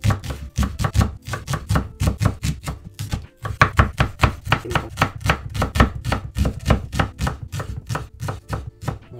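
A knife chops shallots quickly on a cutting board, steady rapid thuds repeating close up, with one brief pause partway through.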